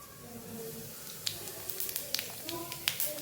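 Cumin seeds hitting hot oil give a faint, crackling sizzle, with small pops scattered over a soft hiss. It is the start of cooking a methi papdi gathiya curry.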